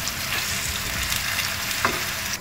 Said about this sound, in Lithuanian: Štai kokį turit girdėti garsą pradžioje kepant. Spirgėjimo.